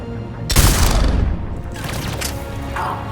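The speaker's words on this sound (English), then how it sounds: "That's a grenade" A grenade detonates in the video game Mass Effect 3, a sudden loud, close boom with a rumbling, debris-filled tail that fades over a couple of seconds.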